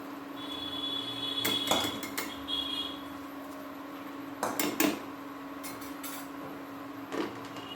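A metal lid clatters back onto a cooking pot of simmering prawn, kohlrabi and radish-stem tamarind sour curry, with a few sharp clinks and knocks spread across the clip over a steady background hum.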